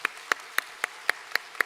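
A church congregation at a Sunday worship service claps in steady unison, giving seven evenly spaced claps. The clapping is faint and sounds at a distance.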